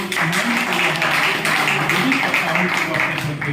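An audience at a teachers' training program closing session claps together, a thick, steady patter of many hands, close and loud, continuing for several seconds.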